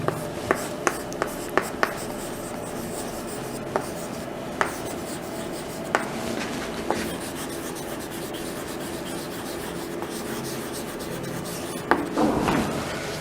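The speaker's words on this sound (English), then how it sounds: "Let me write the passage." Chalk or marker writing out a passage during an English grammar lesson, a steady scratchy rubbing stroke with frequent sharp taps as letters start, continuing alone for several seconds without talk.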